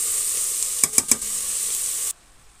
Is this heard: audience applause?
no